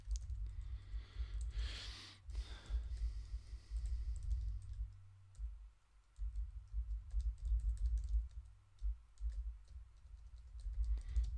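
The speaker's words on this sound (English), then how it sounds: "So I'm just typing in a note just so I can talk to the director about what I want for the lighting" Someone types a note on a computer keyboard, a steady stream of quick, close clicks and key taps running throughout with no talking.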